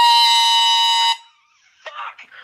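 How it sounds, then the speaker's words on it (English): An air horn blasts loud and steady for about a second, very close, then stops; a brief shout and scattered voice sounds follow. "It's an air horn."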